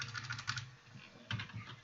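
Quiet, rapid typing on a computer keyboard, a run of soft key clicks followed by a short pause and a second burst.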